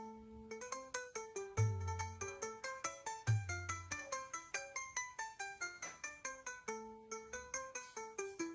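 A phone ringtone plays while a call is being placed in a Hindi family drama, a bright repeating electronic melody of quick tonal notes with a couple of low thumps, running steadily on its own for several seconds.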